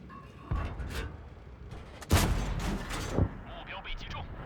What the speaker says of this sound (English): As you can see, they're getting shot by several tanks.